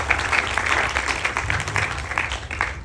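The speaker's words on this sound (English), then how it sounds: "So please give a round of applause to the mothers who make that" An audience at a Ganesh Chaturthi festival night applauds the mothers, giving a dense, even wash of clapping that holds steady for a few seconds.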